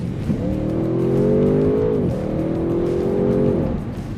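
From inside a 2022 Audi RS6 Avant, its twin-turbo V8 revs hard twice, climbing in pitch with each acceleration before dropping off at the gear change.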